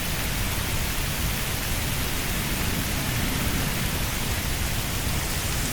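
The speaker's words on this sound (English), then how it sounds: "let's try some light thunderstorms" Steady rain hisses evenly over a simulated Serengeti flight in Microsoft Flight Simulator 2024 set to light thunderstorm weather, a constant broad downpour without distinct thunderclaps.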